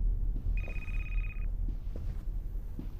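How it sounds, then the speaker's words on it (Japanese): A telephone rings once in a long electronic trill inside the horror game Happy's Humble Burger Farm, clear above a steady low ambient rumble with scattered faint clicks. "電話はどこで鳴ってんだ。"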